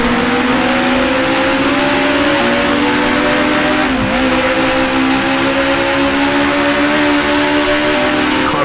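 Race car engine in Grand Prix Legends accelerating hard out of a corner at Bathurst in 1966 Tasman Series racing, a loud continuous rising engine whine that holds near and steady throughout.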